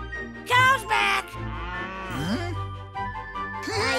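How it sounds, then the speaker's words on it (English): Cartoon cows mooing on a farm in a children's pretend-play animation, a few drawn-out moos in succession over a faint music bed, fairly loud and close. "We got all the cows back onto your farm."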